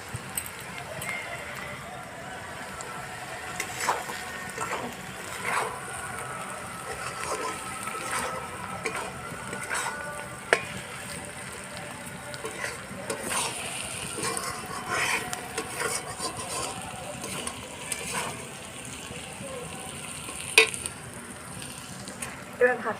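Mixed vegetables and egg fry in a pan for a home-cooked mixed rice, with an uneven sizzle broken by intermittent clinks and scrapes of utensils. Background voices are faintly present throughout.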